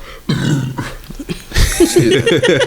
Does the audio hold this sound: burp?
yes